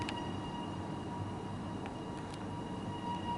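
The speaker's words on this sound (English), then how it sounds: "It is the train that I got off departing for the Pakenham East Yard." Melbourne suburban train pulling away from East Pakenham station toward the Pakenham East Yard, a steady low rumble and hum with faint high electrical whine, continuous and moderately distant.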